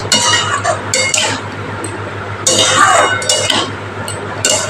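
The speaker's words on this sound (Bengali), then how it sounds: "এবার আমি মশলাটা ডুমুরের সাথে ভালো করে একটু কষিয়ে নিচ্ছি" Spices being stirred and fried with figs in a pan for a fig and potato curry, with repeated metallic scrapes and clinks of a utensil against the pan over a steady sizzle.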